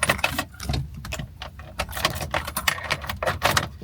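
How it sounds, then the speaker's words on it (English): A bunch of keys jangles and clinks in irregular bursts, close to the mic, with faint car engine rumble beneath; no talking. "Yeah, the keys. Something wrong with the keys right here."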